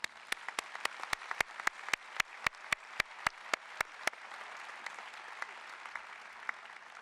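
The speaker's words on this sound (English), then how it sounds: "Please join me in recognizing our stage party with a round of applause." An audience at a University of Tennessee College of Architecture and Design commencement applauds the stage party, with a steady run of sharp, evenly spaced claps over crowd clapping that thins out after about four seconds.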